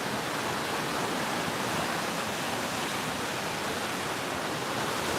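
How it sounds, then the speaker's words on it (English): Ocean waves break on the rocks at San Bartolo beach in Lima, Peru, heard as a steady, dense roar of surf and spray with no distinct breaks or voices. "I'm listening to the ocean hit the rocks while I'm falling asleep."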